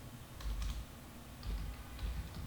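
Several short bursts of typing on a computer keyboard, clattering keys in quick clusters at close range with brief pauses between, no voices.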